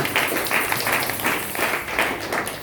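A church congregation applauds during a sermon, a continuous mass of clapping with rhythmic pulses running through it, steady and moderately loud without a break.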